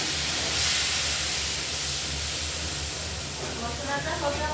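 Whole cumin and bay leaf sizzle in hot oil as masala goes in for aloo matar paneer, a steady broadband hiss and crackle close by, with a voice talking over it.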